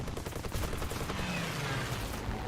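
Rapid bursts of cannon fire from aircraft guns in the War Thunder combat video game, a fast rattling series of loud shots crowding together over a steady background rumble.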